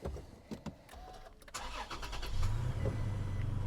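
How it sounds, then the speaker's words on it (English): A 2021 Toyota Tacoma V6 cranking and catching, a few faint clicks and a brief whir before the engine fires up and settles into a louder, steady idle rumble. "that V6 just sounds so good"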